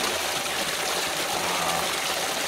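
Loud, steady rush of water pouring through a large garden water feature, a dense broadband splash that holds constant without pause, close and enveloping.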